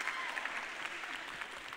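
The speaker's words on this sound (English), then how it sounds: "We give her the round of applause, please." A live audience at a motivational talk gives a round of applause, a dense, steady clapping throughout the short moment.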